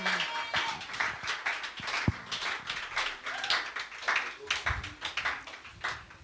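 A church congregation cheers and applauds during a service, a dense, steady wash of clapping and voices with sharp individual claps popping out, loud and continuous throughout.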